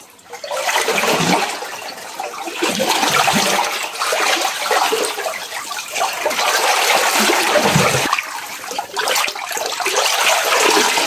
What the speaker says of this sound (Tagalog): Kalakas ng tubig no. Ibig sabihin hindi ito natutuyan. May bukal yung tubig na to.